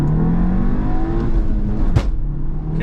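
VW Golf Mk7 GTI accelerating hard in first gear: a loud, close engine note rises steadily in pitch as it revs, with a brief sharp transient near the two-second mark.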